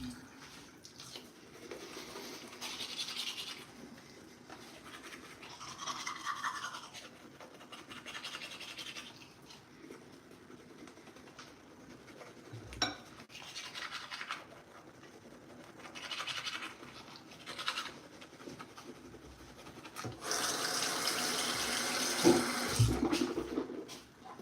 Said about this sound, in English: so y'all stayed here when I brushed my teeth